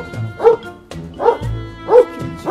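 A puppy barks in three sharp bursts spaced about a second apart, close and loud, with a faint whimper between them.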